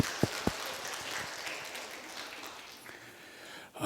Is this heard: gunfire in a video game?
no